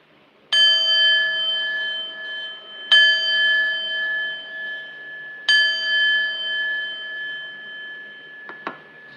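Three ringing bell chimes closing an episode, each struck about every two and a half seconds with a long sustained decay, clear and alone in quiet, followed by a faint brief click at the end.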